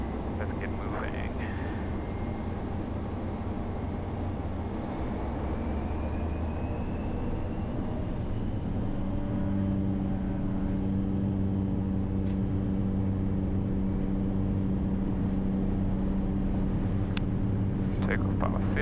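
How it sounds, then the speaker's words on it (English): Cessna Caravan turboprop engine at takeoff power on the roll, a loud steady roar and rising whine heard from inside the cockpit, with voices over it. "Takeoff power set through 40 knots."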